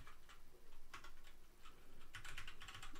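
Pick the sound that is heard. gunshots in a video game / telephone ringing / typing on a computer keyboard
typing on a computer keyboard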